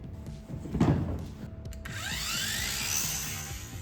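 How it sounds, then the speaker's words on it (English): Angle grinder smoothing a welded patch over a rust hole: a steady, abrasive whine that rises and holds after a brief scrape and clatter at the start, with no talk. "We used the angle grinder to make it smooth."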